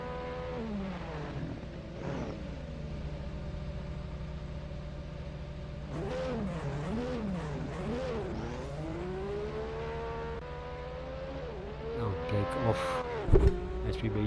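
A little Ford Matra race car with a 230-horsepower Cosworth engine based on a Ford block, revving up and down through gear changes on a sim racing hillclimb at Goodwood, with a rising howl and sharp revs near the end.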